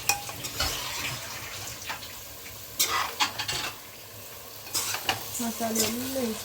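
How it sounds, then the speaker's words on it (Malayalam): Chicken being stirred into biryani gravy in a pan gives soft sizzling with intermittent scraping and clinks from a spoon against metal, moderately quiet and close. "ചിക്കൻ ഇട്ട് നല്ലവണ്ണം മിക്സ് ചെയ്യണം."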